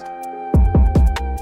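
A deep 808 bass plays three quick notes, each one sliding down in pitch, followed by a sustained low tone, loud and alone.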